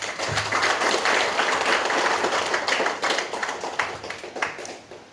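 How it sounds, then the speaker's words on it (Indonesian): Audience applause at a master-of-ceremony workshop in Jakarta, a dense, continuous burst of many hands clapping close by that gradually thins toward the end. "dan tepuk tangan untuk kita semuanya hari ini."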